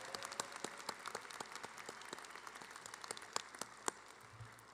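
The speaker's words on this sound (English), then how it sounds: "give the biggest round of applause for your family and friends who are here supporting you" At a university commencement, graduates applaud family and friends with a faint, distant scatter of individual claps rather than a dense ovation.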